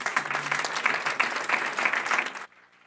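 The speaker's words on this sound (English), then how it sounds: "may we give the UJ Choir another round of applause" Dense applause from an audience for a university choir at a commemorative flag-anniversary ceremony, steady and full for about two and a half seconds before cutting off abruptly into near silence.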